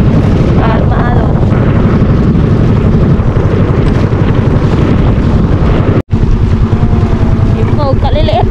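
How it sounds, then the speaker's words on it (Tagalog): Strong wind blows outdoors by a choppy sea during a fishing trip. It makes a loud, continuous low rumble and buffeting with a brief dropout near the end, and voices may be faint underneath. "Dito na kami sa labas eh. Kaya medyo mahangin."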